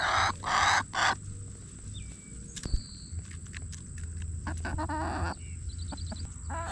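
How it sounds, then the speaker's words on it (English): Backyard chickens eating black soldier fly larva snacks, with a few loud clucks and calls near the start followed by softer scratching, pecking and footsteps, with quieter clucks later on. "Chickens are skittish, but they're definitely after the black fly larva"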